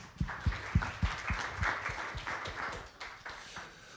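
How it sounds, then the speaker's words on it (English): An audience gives a quick round of applause at a blockchain panel event, steady dense clapping close by with no one speaking. "Quick round of applause."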